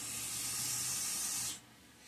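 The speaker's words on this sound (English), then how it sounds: "I'm trying to minimize how much carb cleaner I spray over my bench" Carburetor cleaner sprayed from an aerosol can onto the carburetor parts of a vintage Toro Proline Commercial Recycler lawn mower, a close, loud, steady hiss lasting about one and a half seconds before cutting off abruptly.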